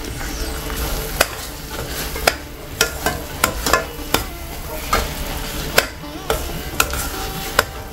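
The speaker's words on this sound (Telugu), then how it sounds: "మనం ముందుగా వేపి పెట్టుకున్న జీడిపప్పు వేసి బాగా కలిపేసుకుందాం." Fried cashews get stirred into a cooking pan, a spoon scraping and tapping against the metal in irregular clicks over a soft, continuous sizzle, close and fairly loud.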